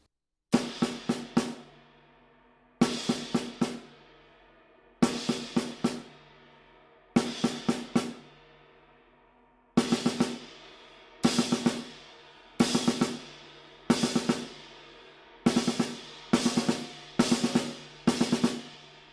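A drum kit plays a repeating one-bar figure: a crash cymbal hit followed by four quick accented snare notes, repeated about eleven times with steady spacing, loud and close with ringing decay between groups.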